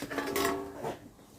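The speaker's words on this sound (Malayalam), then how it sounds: "പാത്രങ്ങൾ അവിടെ കൊണ്ടുവന്ന് വെക്കുന്നുണ്ട്" Cooking vessels are set down in a kitchen, giving a short, faint metallic clink and clatter followed by a softer knock.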